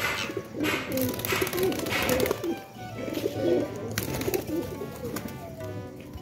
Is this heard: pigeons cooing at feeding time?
yes